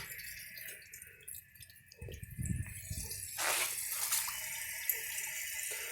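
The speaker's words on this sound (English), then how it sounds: "I'll do a dirt test when the tank is finished filling on this" Water rushes into a refilling toilet tank on a 1974 American Standard Cadet, a steady hiss and gurgle that swells near the middle and keeps running to the end, close and fairly quiet with no talk.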